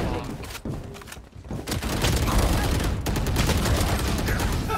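Rapid gunfire from the Valorant video game, bursts of shots packed densely together and loud throughout, with voices talking over the shooting.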